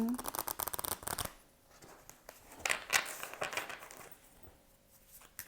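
Tarot cards being shuffled for a reading, quick crisp riffles and papery flicks up close, then softer card handling, while a voice murmurs faintly in the background.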